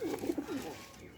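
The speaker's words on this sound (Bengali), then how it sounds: "সেই ফাঁকে আমি একটু কবুতর লাড়াচাড়া করছি" A few soft pigeon coos sound close by while the birds are handled, a brief low rolling call that fades into quiet.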